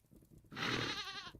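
Goats in the video game Vintage Story let out one loud, wavering bleat lasting nearly a second, following a few faint low sounds.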